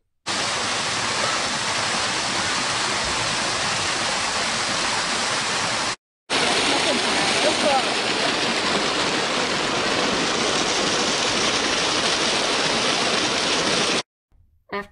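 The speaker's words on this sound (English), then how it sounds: "After watching the waterfalls for a bit," Waterfalls near Banff roar as a dense, steady rush of falling water, loud and unbroken apart from a brief cut partway through.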